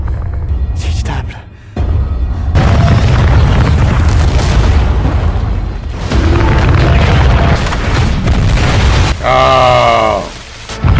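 Deep booming artillery explosions from the film Dune Part Two roll out in several heavy bursts, loud and rumbling with pauses between them, and a voice briefly talks over the blasts.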